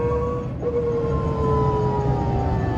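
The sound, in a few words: Microlino electric microcar motor whining under full throttle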